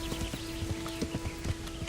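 Horse hooves clip-clop in a fast, steady rhythm as a rider crosses rough ground in the medieval role-playing game Kingdom Come: Deliverance, close and continuous under a constant tonal hum.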